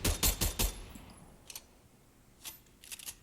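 Submachine gun fire in Fortnite: a quick burst of four loud, close shots at the start, then a few fainter, sharper snaps spaced out after a pause.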